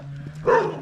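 One short dog bark, fairly close, standing out over a steady low hum.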